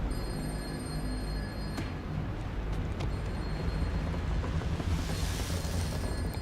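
A telephone rings in a tense 1984 horror scene, a bell tone sounding out over a dense, rumbling background, moderately loud, with no talking.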